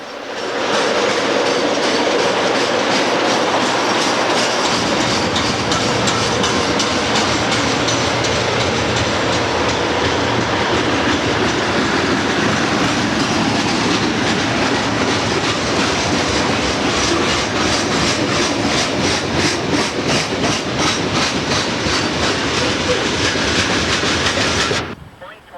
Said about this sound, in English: It's a southbound coal train in the Buffalo line.